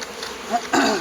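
Honeybees buzz at an open hive close by, a steady hum that swells near the end of a very short moment.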